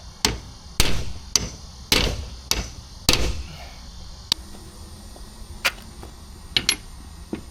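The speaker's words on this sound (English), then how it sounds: "I resorted to a socket and a big hammer." Loud metallic hammer strikes on a socket while fitting traction bars to a Chevrolet S10 truck, about a dozen irregular blows in bursts, some heavy and ringing, close up with little else around.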